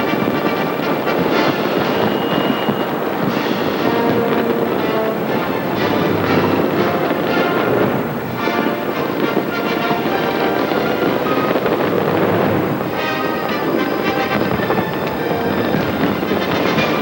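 Fireworks at the 1997 Hong Kong handover celebration: a dense, continuous wash of bangs and crackles with steady loud crowd-like roar throughout, no single bursts standing apart.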